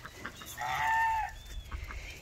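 A Canada goose honks in a drawn-out call, fairly close, over a low outdoor rumble with some faint fowl noises around it.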